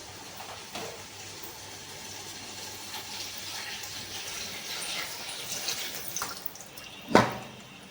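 Water is poured into a pot for half a kilo of chicken dum biryani, a steady gushing splash throughout with a sharp clink near the end.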